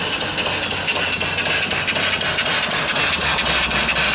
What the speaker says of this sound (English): And it'll run on 20 pounds of air pressure or steam.